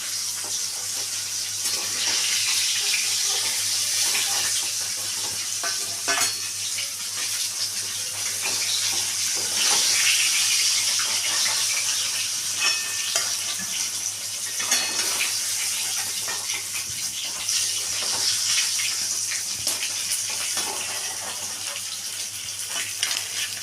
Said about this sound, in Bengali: দেখুন বন্ধুরা আমার এখানে মাছ কিন্তু ভাজা হয়ে যাচ্ছে